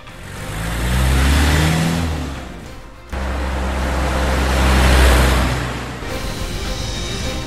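A motorcycle engine in a BIONICLE game revs loudly in long rising and falling surges, with abrupt cuts between bursts. A rushing roar sits underneath the engine, and no voices are heard.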